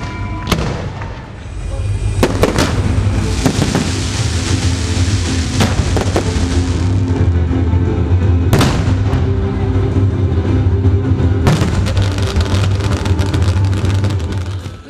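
A fireworks display at a world fireworks competition in Panagyurishte, Bulgaria, brings loud booming bursts and sharp cracks over a continuous rumbling roar, with several big explosions standing out across the scene.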